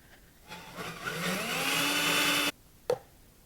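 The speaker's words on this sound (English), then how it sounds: "I'm wondering if this little Milwaukee's going to do it. I really like these little drills." A small Milwaukee 12-volt cordless drill spins up and runs steadily for about two seconds with a rising whine, then stops abruptly, followed by a short clunk.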